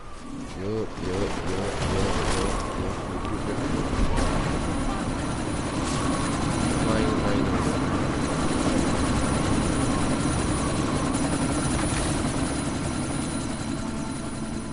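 A helicopter in Deus Ex: Mankind Divided whirs as a steady, dense rotor-and-engine drone through a sandstorm, loud and continuous, with game voices and bird-like coos mixed in.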